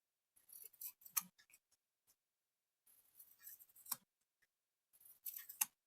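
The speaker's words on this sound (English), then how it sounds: "So I'm going to cut around the outside line." Scissors snip around the outside line of pressed, seamed fabric in three short bursts of quiet, crisp cuts separated by pauses, close and alone.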